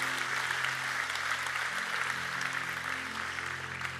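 A church congregation at a Spanish-language service claps in steady applause, with a low electrical hum running underneath.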